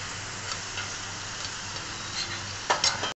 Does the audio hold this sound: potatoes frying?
yes